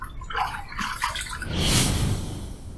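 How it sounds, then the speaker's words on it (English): Water splashes and trickles as a razor is rinsed under a tap after a shaving pass, close and steady with a louder gush toward the end. "Let's rinse."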